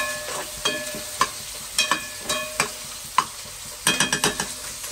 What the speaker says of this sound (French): Là, mon l'ail est frit.